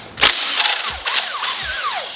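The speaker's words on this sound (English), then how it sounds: "so we gotta take our crank bolt back out" Power tool removing the crank bolt during a teardown of a 2JZ engine being swapped into a Subaru WRX STI: loud, close bursts of mechanical whirring and rattling impact, three sharp onsets with sustained grinding between them, no talk.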